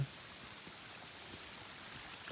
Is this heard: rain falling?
yes